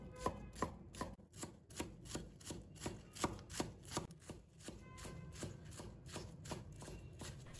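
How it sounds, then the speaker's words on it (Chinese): A knife chops green onions on a cutting board in quick, crisp, evenly spaced strikes, close and clear, about two per second with no speech over them. "把它切成葱花。"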